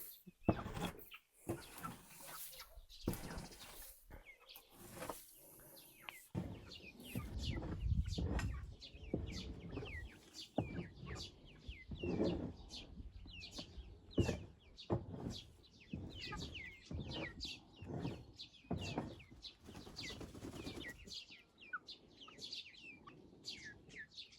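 Chickens cluck and chirp in scattered bursts throughout, moderately quiet, with faint rustling and occasional low background noise.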